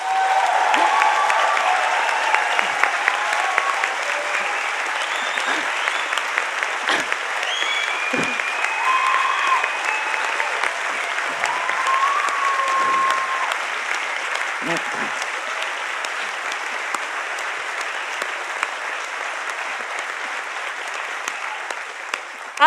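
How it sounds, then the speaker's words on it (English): A conference audience at a climate change conference's closing session gives a long, sustained round of applause, dense and loud crowd clapping that holds steady for over twenty seconds, with occasional cheers and voices mixed in. "I really want everyone to give them a huge round of applause."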